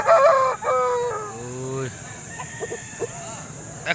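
A rooster crows loudly nearby at a busy poultry market in Poradih, Bankura, the long harmonic call rising and falling over crowd noise and chatter, followed by scattered clucks.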